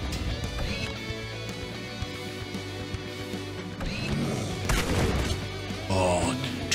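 A super shotgun fires in the video game Supplice, with a couple of loud blasts near the end over ongoing mechanical game sounds.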